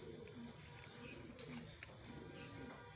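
Belgian racing pigeons coo softly in a loft, low repeated throaty calls over a faint steady background, quiet and somewhat distant.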